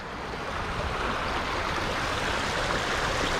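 A flood-scoured creek with a blown-out channel rushes steadily nearby, a dense, even wash of flowing water with no pauses.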